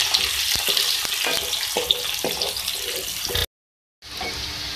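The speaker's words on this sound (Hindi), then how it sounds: "उसमें ऐड करूँगी 2 मीडियम साइज़ की प्याज। इसको मैं फ्राई करूँगी।" Two medium onions fry in hot oil while a utensil stirs them, making a bright, continuous sizzle broken by scraping strokes. It cuts out abruptly for a moment, then the frying resumes.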